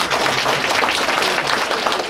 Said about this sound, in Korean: 우리 공무원들에게 박수 한번 쳐주시기 바랍니다